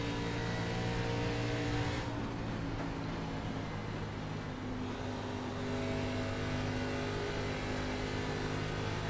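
An ARCA race car engine in the iRacing sim at Atlanta Motor Speedway holds a steady high drone of in-car revs and briefly dips before climbing back, with no one talking.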